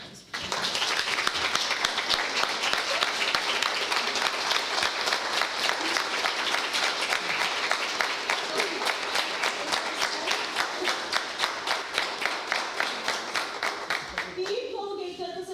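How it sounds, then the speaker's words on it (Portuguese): An audience at a council session breaks into sustained applause, dense rapid clapping from many hands that starts abruptly and carries on for about fifteen seconds before tapering off, moderately loud, with voices mixed in. "Então, uma salva de palmas."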